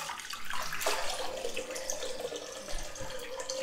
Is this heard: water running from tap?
yes